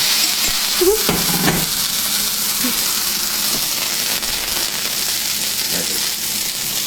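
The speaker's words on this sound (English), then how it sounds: "Then you can see there's less liquid in here, so they're not sticking as much, easier to just saute" Seasonal vegetables sauté in a pan as they caramelize, a continuous close sizzle and hiss with occasional stirring scrapes and clatters, loud and steady without talk.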